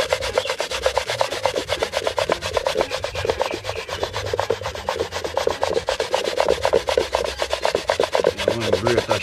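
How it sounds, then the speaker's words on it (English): A carrot is grated by hand for carrot dumplings, giving a rapid, rhythmic rasping of repeated close scraping strokes that continue steadily, with no talk. "So the carrot can grate up or it can be shredded fine."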